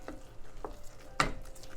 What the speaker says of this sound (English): So we continue to stir